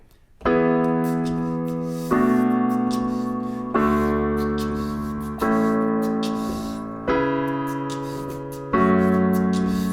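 Piano chords from the bridge of a song, played alone without singing: five sustained chords, each struck firmly and left to ring and fade before the next, roughly two seconds apart.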